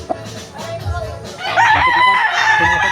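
A seven-month-old grey broodcock gamefowl crows loudly at close range, a long strained call rising over the last half, with scattered clucks and faint background noise before it.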